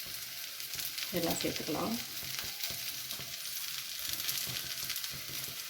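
Mustard seeds, cumin and urad dal sizzle steadily in hot coconut oil, a dense close frying hiss that continues throughout, with a brief voice speaking over it.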